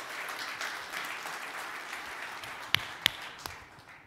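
Keynote audience applause at a Linux Foundation event, a steady wash of many hands clapping at moderate distance, with a few sharper, louder claps near the end.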